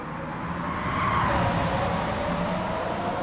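Corvette CX hypercar in Gran Turismo 7 roars at high speed, a sustained dense engine drone with tire and wind noise that swells slightly mid-run, loud and continuous with no talk.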